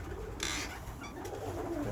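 Soft, low cooing of Viennese show pigeons repeats at a moderate distance, with a brief burst of fluttering wings near the start and a steady outdoor hum beneath.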